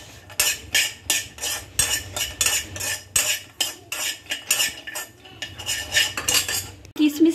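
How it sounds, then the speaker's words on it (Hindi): Almonds and cashews roast in a little ghee while a metal spoon scrapes and clinks against the pan in a quick, regular stirring rhythm, close and clear, with no talking. "तो ये रहा आलमंड और काजू, दोनों को अच्छी तरह से भून लेंगे हल्का घी में।"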